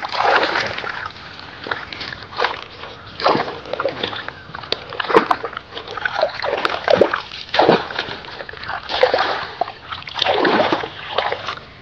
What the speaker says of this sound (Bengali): ঘাসগুলো ভালো করে পুকুরের জলে ধুয়ে নেব।